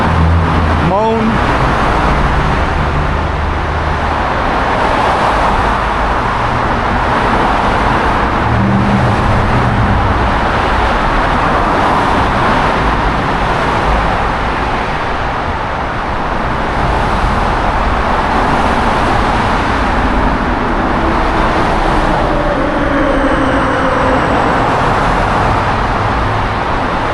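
Slowed-down road traffic makes a dense, steady roar of cars and heavier vehicles, loud and close throughout with no clear gaps.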